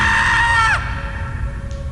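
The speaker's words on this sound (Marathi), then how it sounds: "ईशाने दृश्य पाहिले आणि ती जोरात किंचाळली" A woman's loud, high-pitched scream, sustained for under a second and then cut off sharply, followed by a low rumbling ambience and a faint lingering tone in a horror story setting.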